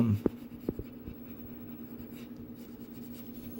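Pencil shading and blending on a dragon drawing, with soft scratchy strokes and a few light taps, close and quiet over faint background hum.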